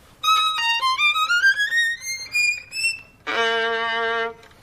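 A solo violin climbs quickly up the strings in a rising run of notes, then drops down and holds a single low, sustained tone.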